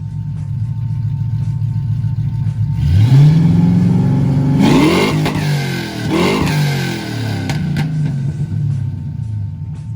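An LS-swapped 1970 Chevy Nova with Black Widow mufflers at the end of its exhaust rumbles at idle, then revs up sharply in a couple of rising pulls before settling back to a steady, loud, close burble.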